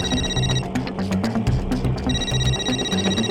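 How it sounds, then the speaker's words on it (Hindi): A mobile phone rings during a rickshaw ride in a Hindi TV comedy scene, its electronic ringtone repeating steadily and loudly for several seconds, close by and without talk. "बीवी का फोन है, उठाना पड़ेगा।"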